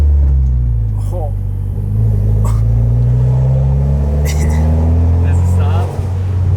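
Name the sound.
Mitsubishi Evo X car driving and braking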